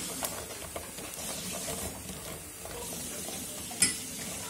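Chestnuts roasting in a frying pan on the stove, turned halfway through cooking, give a steady soft sizzle and hiss with faint stirring rustles and one brief clatter near the end, close and without voices.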